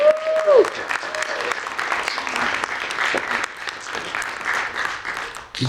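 A room full of people applauds at a criminal justice reform talk, a continuous wash of hand claps running the whole stretch, with a brief tonal sound near the start and a voice cutting in at the very end.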